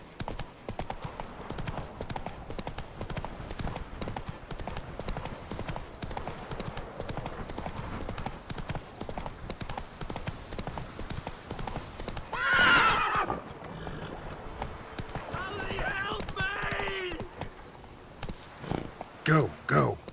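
Roach, the horse in The Witcher 3, trots with steady clip-clop hoofbeats throughout, and a loud whinny rises near the middle before a brief rustle and a few more hoof thuds at the end.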